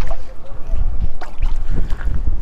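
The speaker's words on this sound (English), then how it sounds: "We've been fighting the wind today." Wind buffeting a boat on a lake while trout fishing, a loud rumbling gusty roar with bursts of water splashing against the hull throughout.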